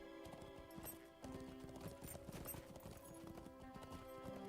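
Galloping war steed hooves in the online game Lord of the Rings Online, a rapid continuous clip-clop rhythm over a game music bed, steady and moderately loud with no pauses and no talk.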